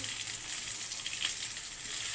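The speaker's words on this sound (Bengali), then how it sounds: "এই দেখো আলুটা ভেজে নিচ্ছি" Potatoes frying in oil for chicken biryani give a steady, faint hiss and crackle, continuous and close with no talk.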